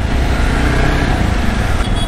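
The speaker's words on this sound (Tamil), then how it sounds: "எக்ஸாஸ்ட் நோட் நல்லா கிளியராக தெளிவாக கேட்குது எனக்கு." A Jawa Bobber 42 motorcycle's exhaust note while riding on the road, a steady loud low engine drone with wind rush, continuous and close throughout without speech.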